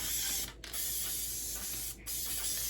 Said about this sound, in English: Get that nice and sprayed.